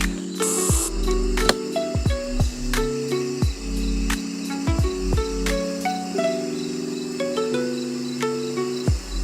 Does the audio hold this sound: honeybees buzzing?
yes